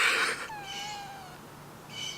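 A pet cat meows once, a clear drawn-out cry that rises and then falls, with a brief scuffle just before it and a faint rustle after, heard close in a quiet room.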